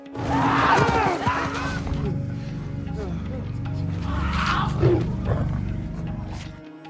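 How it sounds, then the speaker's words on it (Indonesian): A lion roars as it attacks in a film, a rough, sustained growling roar spread over several seconds, swelling twice amid dense background noise. "Tahu-tahu datang seekor singa nyerang Kappa."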